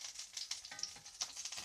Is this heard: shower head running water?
no